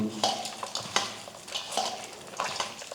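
Spoon stirring ginger-garlic paste, fennel, curry leaves, coriander, mint, green chilli and asafoetida into sliced onions for onion pakoda, giving repeated close scraping and clinking against a bowl with soft wet rustles, no talking.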